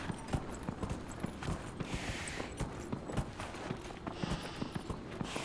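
A dracolisk mount's steady hoofsteps thud in a regular rhythm across terrain in the fantasy role-playing game Dragon Age Inquisition, close and fairly quiet over a constant ambient bed.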